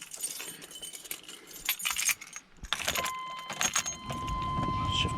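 Car keys jangle inside a 'Burban SUV with bursts of metallic clinking and rattling as they are handled, up close, with some rustling and a thud between shakes.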